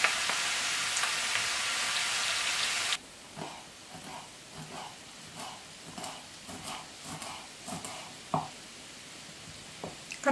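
Potatoes with onion sliced into half rings frying in a pan in a rural cabin kitchen; a loud, even sizzle first, then quieter crackling with scattered pops and stirring clatter.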